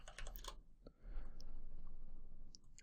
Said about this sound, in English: we'll type print string